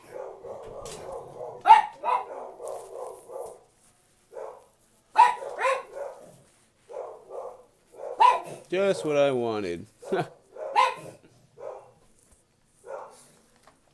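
A pet dog named Bear barks indoors in repeated short bursts with a whiny yelp partway through, mixed with a person talking nearby.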